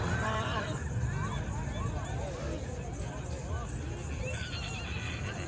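Horses whinny repeatedly at a village fair in Isra near Keshod, the neighs rising over a busy babble of crowd voices, with some hoof clip-clop and people talking throughout.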